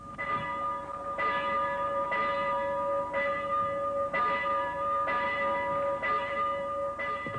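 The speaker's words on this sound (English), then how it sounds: "a silence broken finally by the steady tolling of the church bell." A church bell tolls steadily after a minute's silence at a memorial for a 1989 coach collision, with about seven evenly spaced strokes roughly a second apart, each ringing on into the next with a clear, sustained metallic tone.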